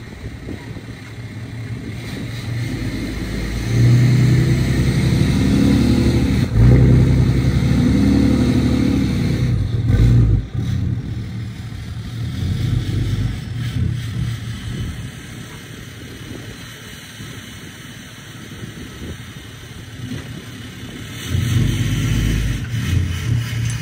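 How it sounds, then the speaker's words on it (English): An Oliver 2655 4x4 tractor with an LP engine, once stuck, is turned over, giving a low, rough mechanical rumble that rises and falls in uneven bursts, with quieter stretches between. "That looks to me like a rolling tractor."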